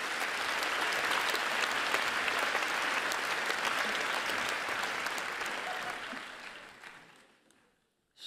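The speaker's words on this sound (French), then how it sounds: "que vous applaudissez si vous le désirez" An audience applauds at a graduation ceremony of a teacher-training school in Vaud, Switzerland, dense steady clapping that holds for several seconds and then fades out.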